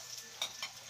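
Garlic browning in a hot pan for monggo ginisa, stirred to keep it from burning before onion goes in: a brief, close, steady sizzle with two sharper bursts of stirring.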